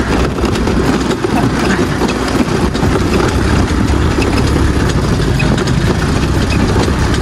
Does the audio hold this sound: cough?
no